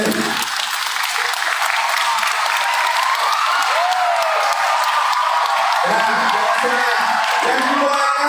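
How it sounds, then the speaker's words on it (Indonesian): An audience at a large parenting seminar in Labuhanbatu applauds the mothers with steady, dense clapping that fills the whole stretch, and a few voices rise near the end. "Ini layak juga kasih tepuk tangan untuk mama kalian ini."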